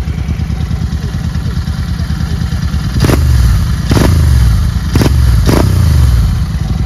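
Continental GT 650 motorcycle with a Barrel Atom aftermarket exhaust, a loud, close, throbbing idle that breaks into four sharp revs, each followed by a deep burbling fall back to idle.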